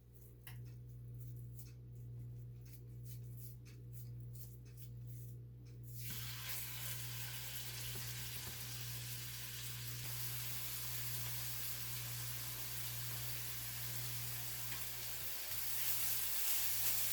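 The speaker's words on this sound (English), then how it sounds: "Just gonna fry them up." Food fries in a pan with a steady sizzle that jumps much louder after a few seconds and keeps hissing, over a constant low electrical hum with no talk.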